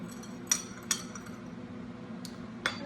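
A spoon mixing soy sauce into a sauce gives a few sharp clinks against the bowl, isolated and close, spaced irregularly over a quiet background.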